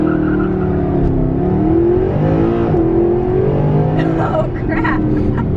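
Mercedes-Benz SLS AMG in race start mode, its engine droning loud and steady from inside the cabin as the car launches, with people talking over it.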